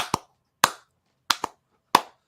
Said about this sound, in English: Anytime I can get a good little soul clap in like that is a good start to anything, really.